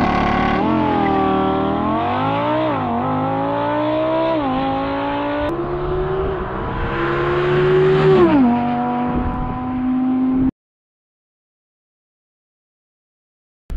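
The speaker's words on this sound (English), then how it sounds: "These V10s sound unreal." An Audi R8 V10 Performance engine revs hard and climbs through several gear changes with a loud, high wail, then cuts off abruptly into silence.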